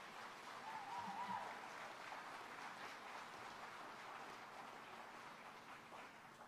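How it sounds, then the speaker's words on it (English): Steady crowd applause at a police academy graduation, with a dense, rain-like patter of clapping that holds at an even level throughout, no voices standing out. "Let's give them a round of applause for that."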